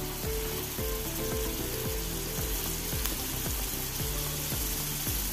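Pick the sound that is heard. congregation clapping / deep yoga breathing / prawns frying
prawns frying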